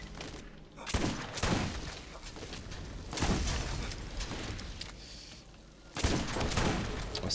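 Gun turret firing in Borderlands, with repeated rapid bursts of shots arriving in several loud waves, separated by short, quieter gaps and no speech.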